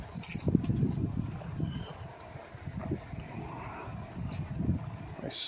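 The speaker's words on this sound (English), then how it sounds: "it's getting kind of windy" Wind gusts buffet the microphone in low rumbling surges during outdoor dog obedience training, steady and close, with faint outdoor noise and no clear speech.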